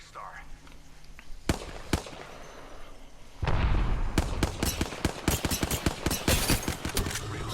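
Gunfire in the video game Apex Legends: sharp cracks, a couple of isolated shots, then rapid bursts of repeated shots, loud and close, with a voice talking over parts of it.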